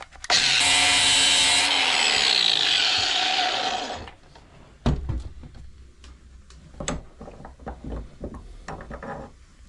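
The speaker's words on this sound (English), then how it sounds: "just gonna clean this up a bit with the flap disc here" Power tool with a flap disc grinds loudly for about four seconds while cleaning up metal on a zombie apocalypse bike build, then stops, leaving scattered clanks and taps of handling.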